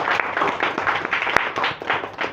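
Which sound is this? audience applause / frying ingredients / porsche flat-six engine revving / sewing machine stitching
audience applause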